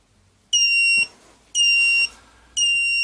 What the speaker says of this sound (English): You've got your buzzer on your back, your lost warning buzzer